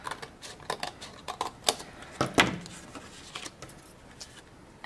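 Scissors trimming the excess edge of a card, a run of small crisp snips and paper clicks in a quick irregular rhythm, close and fairly quiet.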